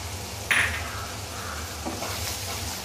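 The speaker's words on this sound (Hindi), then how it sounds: "इसको भी अच्छी तरह से मिक्स कर लेंगे।" A spoon stirs sizzling masala in a pan while arbi leaf sabzi cooks. A sharp scrape of metal lands early, then a steady soft frying hiss carries on, with a few quieter stirring strokes after it.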